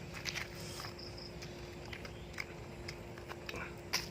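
Someone bites and chews crispy deep-fried pork intestine, producing quick close crunches and crackles in an irregular rhythm, fairly quiet.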